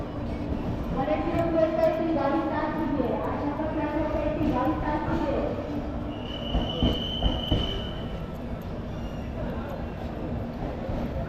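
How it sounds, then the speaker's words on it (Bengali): Sealdah–Puri Duronto Express rolling into Kharagpur Junction, its wagons rumbling and wheels squealing steadily close by, with a sustained high screech midway and voices talking over the running noise. "আমাদের ট্রেন কিন্তু পৌঁছে গেছে খড়গপুর জংশন"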